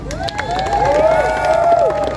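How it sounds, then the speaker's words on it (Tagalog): A crowd cheers and claps in thanks to senators at a Filipino gathering, a short burst of shouting voices and applause, loud and close, with tonal cries rising over the noise. "Palakpak!"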